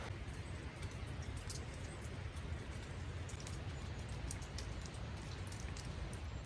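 Steady, relentless rain falls on a roof work site in Scotland, a dense continuous hiss of drops with occasional sharper patters, even and unbroken throughout with no voices.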